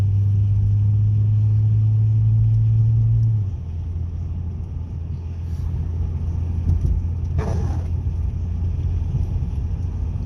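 A 2005 Acura TL being driven, a steady low engine drone and road rumble from inside the cabin, the pitch easing after a few seconds, with a brief clunk near the end.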